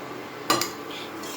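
A metal spoon clinks twice against a kadhai while poha is stirred and roasted in ghee over low heat, followed by a soft, quiet background hiss.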